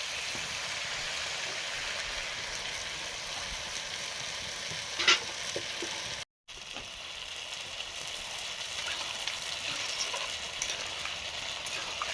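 Mustard paste fries for a snakehead fish curry with tomato, a continuous moderate sizzle in the pan, close but fairly soft, with one sharp clink of a utensil partway and a brief gap before the frying hiss resumes.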